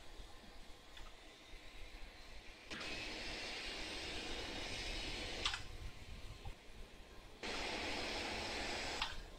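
A multi-engine cargo aircraft's fourth engine spooling up in the flight simulator FSX, a steady broad roar that swells in stages and holds loud, with no talking over it.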